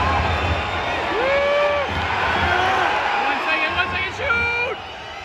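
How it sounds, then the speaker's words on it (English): Crowd noise at a Swedish ice hockey match between Frölunda and Skellefteå AIK, a loud sustained roar of cheering and whooping with rising shouts that swells and dips over a few seconds, voices mixed into the babble. "The crowd's so loud you can barely hear the horn"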